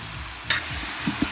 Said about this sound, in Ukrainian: Додаємо м'язку, гарно все його обжарюємо.